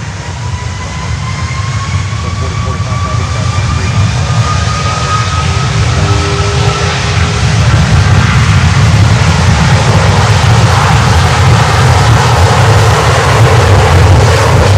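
Cargo jet engines roar steadily at Miami Airport, a loud continuous rumble with a faint whining tone that rises and shifts as the aircraft taxis, no voices over it.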